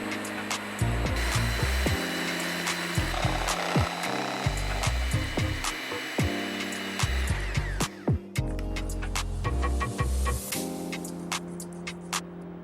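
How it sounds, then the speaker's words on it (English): Electric hand mixer whirring through lumpy cheesecake filling made with Meyer lemon juice, steady motor drone with repeated knocks and changes in pitch as the beaters work the bowl. "get a mixer and smooth out the clumps"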